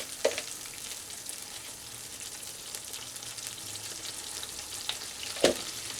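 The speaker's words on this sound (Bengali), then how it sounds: "2 টেবিল চামচ আমি আদা পেস্ট দিলাম।" Two tablespoons of ginger paste and a pinch of turmeric fry in a pan for a vegetarian pointed gourd curry. A soft, steady sizzle runs quietly throughout, broken by a couple of sharp utensil clinks near the start and end.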